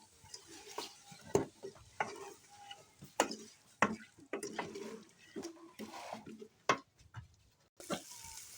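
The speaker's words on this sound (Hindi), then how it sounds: "ताकि हमारे बीफ और मसालों की अच्छी तरह से भुनाई हो सके" A utensil knocking and scraping in a pot as beef with nihari masala is stir-fried, irregular sharp clinks and scrapes over a faint sizzle, close and fairly quiet.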